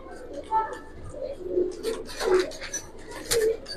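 Fancy pigeons coo in a series of soft, close, throaty calls, several birds overlapping in a loose rhythm, with light chirps and rustling between the calls.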